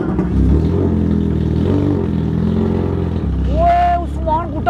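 A heavy motorbike engine rumbles and revs up close, loud and throaty, with voices talking over it.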